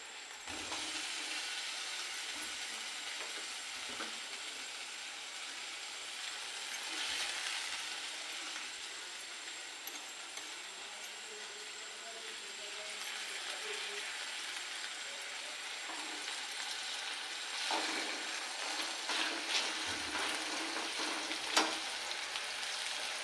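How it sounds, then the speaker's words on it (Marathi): Tomatoes are dropped in among onions frying for pav bhaji, giving a low, steady sizzle with faint occasional scrapes, quiet and continuous. "आता आपण टोमॅटो टाकूया"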